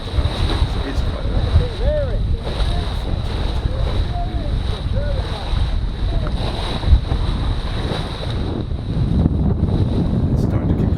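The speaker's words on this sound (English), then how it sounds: "just going windier and windier, wavier and wavier." Steady wind buffeting and wave wash while sailing a boat under jib in the Sound of Jura, Scotland, with rough, continuous rushing noise and water slaps throughout, the sea getting up.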